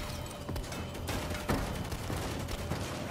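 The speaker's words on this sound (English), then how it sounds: "They're shooting the RV." Rapid gunfire in the Saints Row video game, a dense burst of repeated shots and cracks with a louder bang around the middle, close and sustained for a few seconds.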